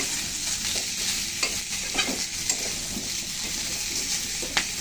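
Chili powder stirs and fries in a pan, a dense, continuous sizzle with soft scraping strokes and occasional light utensil taps throughout.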